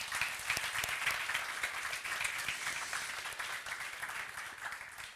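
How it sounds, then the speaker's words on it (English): A crowd claps steadily throughout at a hackathon finale, a dense, even patter of applause at moderate distance that fades slightly toward the end. "I would like to have a big applause for our first jury member, Ineze Podjeska."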